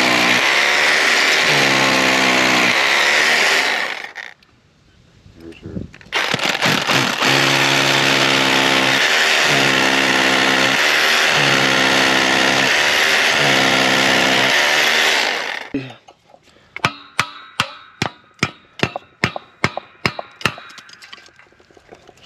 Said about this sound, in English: So I'll go ahead and drill.